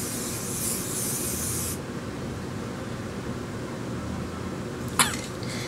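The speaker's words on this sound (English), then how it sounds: "Smooth and Seal Spray. It gives a lot of shine to the hair" Straight and Sexy Smooth and Seal hair spray sprayed from a can for an overnight curl set at home, a steady hissing burst for nearly two seconds over a faint background, followed later by a short sharp click.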